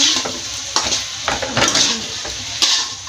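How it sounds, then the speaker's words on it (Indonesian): Chopped tomato and spring onion are stirred into a sizzling frying pan of clams. Brief scraping, clattering strokes of the utensil sound over a bright, close sizzle, with no voices. "Nah, untuk terakhir kita masukkan tomat dan daun bawang. Kita aduk sebentar."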